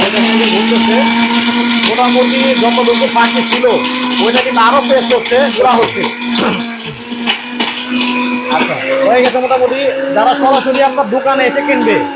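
A powerful electric kitchen blender grinding loudly and continuously with a steady motor whine and clattering contents, under near continuous talk from people nearby.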